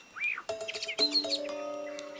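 A male lyrebird imitates a blackbird's song with a quick run of clear whistled phrases and chirps, close and bright, ending in sustained tonal notes.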